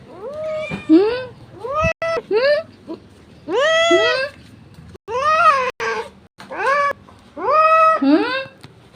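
A cat meows repeatedly, drawn-out, insistent cries close by, with short pauses between each call.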